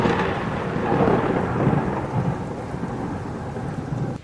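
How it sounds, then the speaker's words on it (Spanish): Heavy thunderstorm rain pounding a zinc hotel roof, a loud continuous dense roar with deep thunder rumble swelling underneath, close and steady throughout with no voices. "La lluvia golpeaba el techo de zinc del Hotel Melodía como 1000 dedos huesudos intentando entrar."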